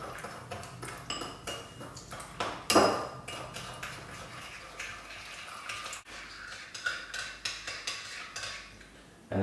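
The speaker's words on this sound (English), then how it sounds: "So now I'm going to mix together the yeast and the sugar, and gradually add the warm milk" Yeast and sugar being mixed in a bowl with warm milk gradually added for a bun dough, heard as a steady run of light clinks and scrapes of utensil against bowl, close and moderately loud, with a sharper knock partway through.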